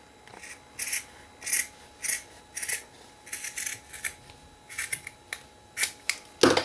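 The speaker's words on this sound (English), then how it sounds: "Scissors aren't fabric scissors, they're gunky scissors" Gunky, non-fabric scissors snipping folded paper into small hearts, a run of about a dozen crisp, close cuts in short bursts with brief pauses between them.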